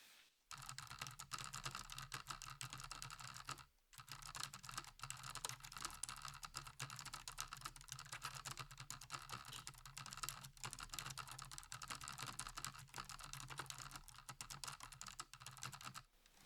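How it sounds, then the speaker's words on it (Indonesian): Fast continuous typing on a slim, compact Rexus KL200 wireless office keyboard with built-in touchpad, recorded close to the computer's microphone; dense rapid clicking keystrokes run nonstop for about fifteen seconds after a brief pause near the start. "gue pasangin mic utama di komputer gue untuk pengen tahu suaranya kayak gimana, sekalian gue typing test"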